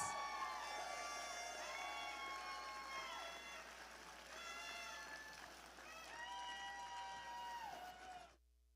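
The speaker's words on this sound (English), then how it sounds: "Let's give her a big round of applause." A crowd at a school Teacher of the Year event claps and cheers steadily while bright, tonal music plays over it, then everything cuts off abruptly near the end.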